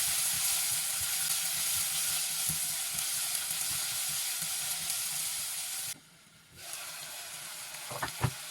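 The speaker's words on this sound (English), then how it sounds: "add 2 chopped onions." Chopped onions fry in hot oil with a steady, close, loud sizzle that continues throughout, briefly drops for a moment, then resumes with a few light clinks.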